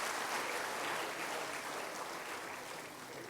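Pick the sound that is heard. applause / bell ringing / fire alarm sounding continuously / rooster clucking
applause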